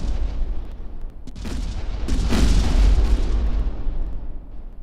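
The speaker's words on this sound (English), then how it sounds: "there you can see the secondary explosions prior to the complete explosion, destruction of the ship" A series of rumbling blasts and crackling bursts builds to a big, roaring explosion, then slowly fades out: a spaceship being destroyed in the game Kinetic Void, with secondary explosions before the full destruction.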